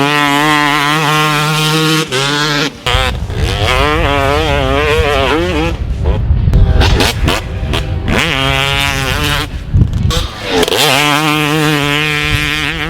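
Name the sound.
Yamaha YZ250 two-stroke motocross bike riding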